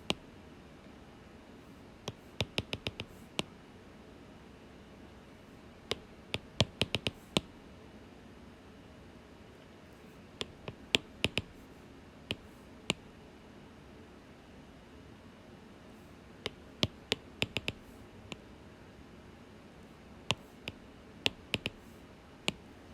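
Numbers keyed into a calculator, with sparse clusters of sharp, close button clicks, some in quick bursts and others single taps, separated by quiet pauses over a faint hiss.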